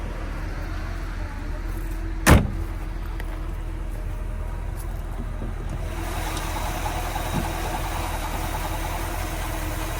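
A 1963 Corvette engine idles with a steady, low rumble, heard close with the hood up, while a sharp click and faint knocks sound briefly over it.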